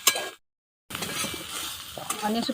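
Soybean dry curry being stirred in a pan, a steady scraping and light sizzle broken by a brief silent gap, then continuing with occasional utensil clinks against the pan.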